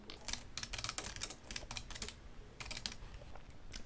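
Quick, uneven typing on a computer keyboard, a close run of light key clicks in bursts with short pauses between them.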